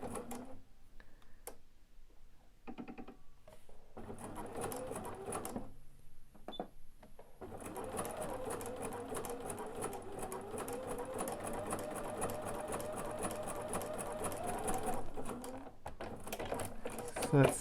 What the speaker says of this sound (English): So we were able to stitch this cording right along the edge of that little quilt.